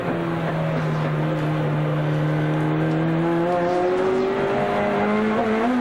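Touring race cars at speed on the Amaroo track during a 1988 Australian Touring Car Championship round, engines holding a loud, sustained high-revving drone that climbs steadily in pitch, heard alone without commentary.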